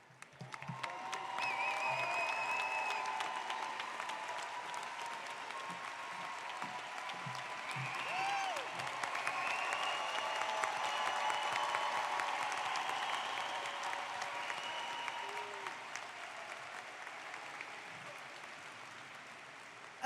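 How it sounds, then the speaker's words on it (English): Sustained crowd applause fills a college commencement ceremony, a steady wash of many hands clapping at moderate distance for about twenty seconds, with occasional cheers and calls rising above it. "give our graduates a round of applause"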